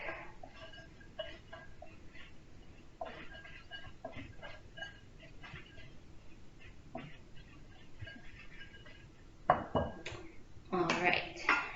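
A spoon stirs dry granola ingredients, nuts and crisped rice cereal, in a big bowl, making light scraping and clinking that grows into louder rattling bursts toward the end.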